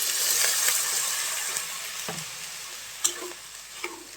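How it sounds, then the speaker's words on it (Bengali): Shrimp stir-frying in a pan with a little water added, a steady close sizzle with a few sharp spatula scrapes and taps against the pan, no voices. "চিংড়ি মাছ দিয়ে ভাজি করতে আছি"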